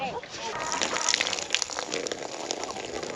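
Water is poured into a container for chickens on a farm, a steady rushing gush close by that runs the whole time, with a voice speaking over it.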